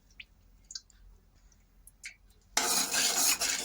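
Cooking oil poured into a kadhai that was just used to fry potatoes for dum aloo: a few faint light clicks, then a sudden loud, steady rushing hiss that continues to the end. No one speaks.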